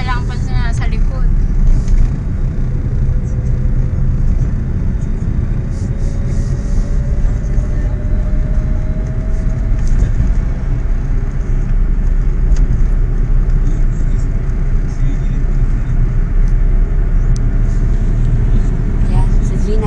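A car being driven on a road, its engine and road rumble steady and close throughout, with people talking inside the vehicle over the noise.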